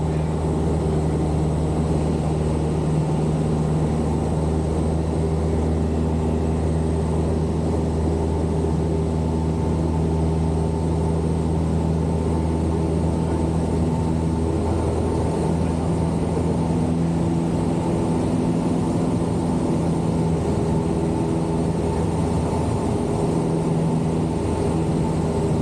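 A small airplane's engine drones steadily and loudly through 45-degree steep turns, a continuous propeller hum with strong low harmonics and cabin noise, with no break.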